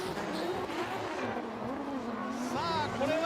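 Drift cars at a D1GP drift event in Odaiba, Tokyo, a Toyota GR86 and a Nissan S15 Sylvia, roar and rise in pitch over a steady engine drone, with loud announcer commentary running throughout.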